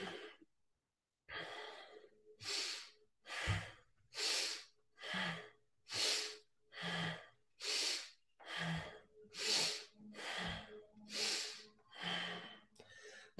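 Rhythmic breathing during a Nabhi Kriya kundalini yoga exercise, with about a dozen forceful, evenly spaced breaths heard close and alone.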